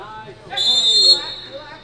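A referee's whistle sounds once during a professional soccer match between Arizona Impact and Las Vegas Knights, a sustained shrill blast of about half a second over the low murmur of the crowd.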